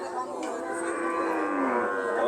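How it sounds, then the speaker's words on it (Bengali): A cow at a rural cattle market gives one long, close, drawn-out moo that swells slightly toward the end, with faint crowd murmur behind. "অনেক চমৎকার একটি গরু"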